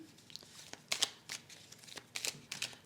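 Oracle cards laid down over a row of cards: soft, quiet papery slides and light taps, several brief card contacts at irregular intervals, close and faint, without speech.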